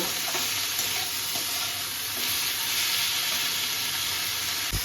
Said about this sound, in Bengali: এখানে আমি স্বাদ মতো লবণ আর হলুদ দিয়ে দিলাম, দিয়ে বেশিক্ষণ না, অল্প আমি এটা নাড়াচাড়া করব।